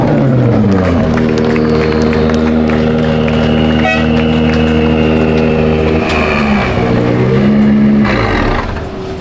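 A Dakar rally car driven by Nasser Al-Attiyah rolls into the bivouac paddock, a loud engine rumbling and revving nearby with horn toots and crowd cheering and clapping around it.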